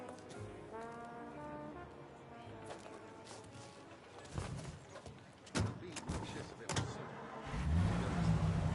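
A car engine runs in the Mafia Definitive Edition video game, a steady motor hum under ongoing dialogue between characters, with a few louder thumps and a heavier low rumble near the end.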